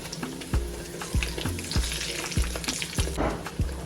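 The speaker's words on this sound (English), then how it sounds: "You just fry them in the same oil that you fry the other, like your meatballs." Meatballs frying in hot oil, a constant close crackling sizzle broken by regular low knocks of a utensil against the pot, with no talking.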